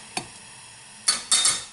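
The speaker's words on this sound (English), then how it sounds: "So now we're going to throw in the courgettes and the onions." Courgettes and onions tossed into a large pan of hot oil, giving a brief tap then two loud bursts of sizzling and clatter close by, with no talking.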